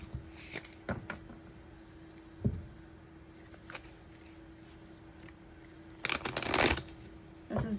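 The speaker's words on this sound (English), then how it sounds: "we're going to take some clarifying life situation cards here." Tarot cards are shuffled and drawn by hand, with soft scattered taps and slides and then a longer riffling burst of cards near the end against a quiet steady hum.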